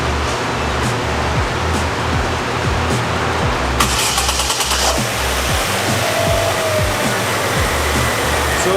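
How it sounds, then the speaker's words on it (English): A Chevy Aveo engine with a failed AC compressor idles loudly and close, a steady rumbling drone with a faint rattling pulse running through it, and a brief burst of added clatter partway through. "we'll go ahead and start this up and show you what a failed compressor looks like."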